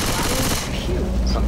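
Rapid shotgun blasts in the Left 4 Dead 2 zombie shooter, loud and close, clustered in a quick burst over a dense wash of game noise.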